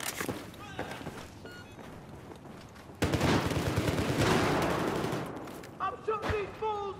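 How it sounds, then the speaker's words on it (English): Rapid automatic gunfire in Battlefield 4 multiplayer, a loud dense burst of overlapping shots and impacts, with footsteps and shouted voices around it. "I'm shooting these fools up!"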